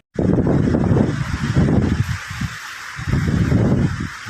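Strong gusting typhoon wind in Bicol, Philippines roars across the microphone in loud broadband bursts, easing briefly midway before surging again, with no voices.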